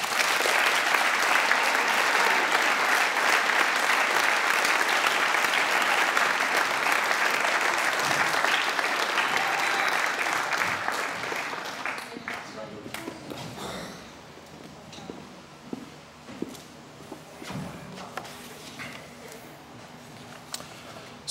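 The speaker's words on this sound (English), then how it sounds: "let's give a round of applause for Amber Roy." An audience at a school senior awards night applauds in a dense, sustained burst of clapping that dies away after about ten seconds into quieter room noise with a few scattered claps and shuffles.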